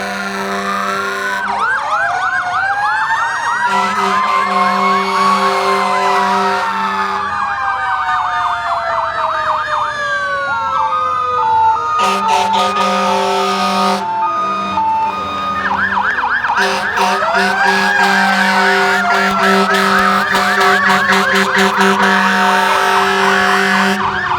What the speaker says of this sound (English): Bayway Refinery, Emergency Response Vehicle.